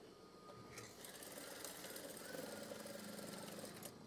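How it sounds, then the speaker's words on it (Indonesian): A sewing machine stitches a green curtain tie, its motor giving a steady, quiet mechanical whir that holds even and unbroken throughout. "Sewing."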